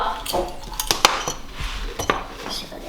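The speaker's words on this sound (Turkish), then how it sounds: "Ama bu kız bulaşık yıkamayı seviyor." Dishes being washed at a sink: plates, pots and cutlery clink and knock together in several sharp, irregular bursts over running water, close up, with light talk and laughter nearby.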